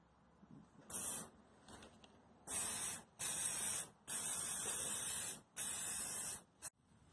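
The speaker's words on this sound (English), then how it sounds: "I'm going to spray it with some rust reformer" An aerosol can of rust reformer hisses in a series of bursts, some short and some held for about a second, close by in a quiet room.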